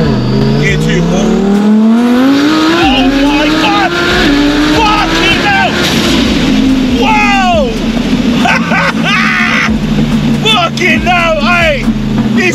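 Twin-turbo Lamborghini Huracan Performante rolling then accelerating hard in second gear, loud continuous engine roar with rising pitch and an upshift, close and dominant throughout, with a voice briefly over it.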